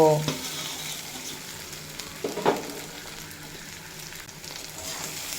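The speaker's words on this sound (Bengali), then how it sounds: "তেল ভালো মতো গরম হয়ে গেছে এবার ম্যারিনেট করা এঁচড় তেলের মধ্যে দিয়ে দেব" Marinated jackfruit fries in hot oil in a pan, giving a steady, close sizzle with a couple of sharper spatula clinks and stirring scrapes near the start and middle, no talking.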